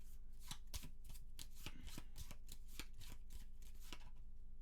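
Cards being shuffled for the Maquis solo board game, a quick run of riffling snaps and papery flutters, close and fairly quiet, with no talking.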